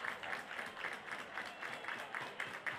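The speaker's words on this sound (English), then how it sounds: "The Leopard fans will start their group clapping together" A group of Leopard fans claps together in a steady rhythm at a high school baseball playoff game, quiet, distant, evenly spaced hand claps repeating throughout with crowd murmur beneath.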